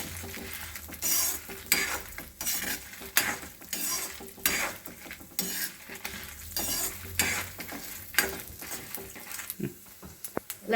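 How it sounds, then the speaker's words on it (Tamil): Chana dal, cumin, pepper and dried red chilies roasting in hot oil for pumpkin sambar, a steady sizzle broken by repeated scraping and clinking of a spoon stirring against the pan. "இப்போ எண்ணெய் சூடாகிடுச்சு, அப்படியே எல்லாத்தையும் ஆட் பண்ணி லைட்டாக ஒரு ரோஸ்ட் கொடுக்க போகிறோம்"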